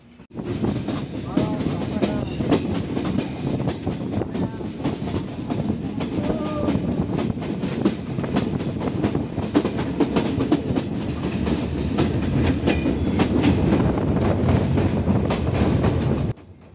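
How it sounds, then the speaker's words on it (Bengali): The Chitra Express passenger train rolls along the rails after leaving Bheramara station in Bangladesh, with a continuous rumbling clatter, steady and close, as if heard from aboard, fading out abruptly at the end. "চিত্রা এক্সপ্রেস ট্রেন তার 3 মিনিটের যাত্রা বিরতি শেষ করে ভেড়ামারা রেল স্টেশন ছেড়ে যাচ্ছে"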